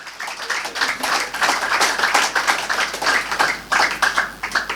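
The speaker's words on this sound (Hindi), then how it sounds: "अब एक्टिव हो जाएं, ताली बजाएं, क्योंकि महत्वपूर्ण विषय है।" A group audience claps through a spiritual talk on manifestation and the law of attraction, a steady, fairly close patter of many hands with no voices over it.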